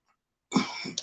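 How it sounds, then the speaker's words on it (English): A single harsh cough or throat-clear from a man, close and fairly loud, bursting out after a stretch of silence with a short second push near the end. "I ain't never coughed like this in years."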